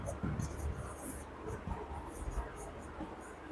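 A teacher writes on a board during a chemistry lesson on reaction rates. Faint, scratchy strokes come in short irregular bursts over a low room murmur.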